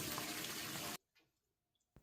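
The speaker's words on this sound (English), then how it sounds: "Now our pasta should be done, so I think we can drain that." Cooked pasta is drained, water pouring loudly for about a second before cutting off, followed by a few faint drips and a small splash.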